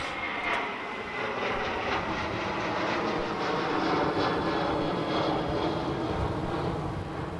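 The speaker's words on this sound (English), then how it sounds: "Qantas 740 is about to turn onto the runway" A Qantas jet airliner turning onto the runway at Adelaide Airport sends a steady, broad engine roar and whine from a distance, continuous and unbroken for several seconds.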